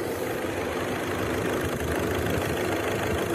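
A Volkswagen diesel car engine idles steadily and close up, a continuous even hum with no audible knocking or misfire, running alone without talk.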